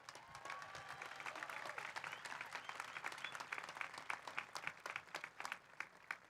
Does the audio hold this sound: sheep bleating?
no